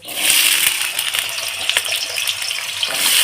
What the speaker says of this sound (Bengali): জল সামান্য আর একটু হলুদ গুঁড়ো দিয়ে দিচ্ছি